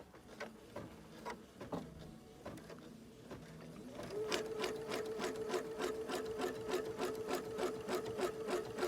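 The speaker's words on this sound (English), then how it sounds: "if I go ahead and start it here, oh, that's safe. Yeah, let's start it. Do the basting stitch." An embroidery machine sews a basting stitch for in-the-hoop chenille. Its needle taps slowly at first, then speeds up into a steady, quick mechanical patter with a faint motor whine under it.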